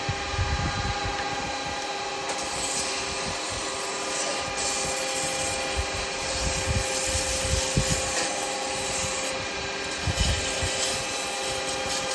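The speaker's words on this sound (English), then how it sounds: "Right, a little bit of sanding." Steady abrasive rubbing of sandpaper against wood spinning on a lathe, a continuous scratchy hiss with a constant motor hum underneath.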